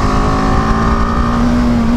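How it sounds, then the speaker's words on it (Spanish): BMW G310GS motorcycle engine accelerating, a loud steady drone with a slowly rising tone, heard up close over wind and road noise. "De 0 a 90 empuja muy rico esta moto, ¿eh?"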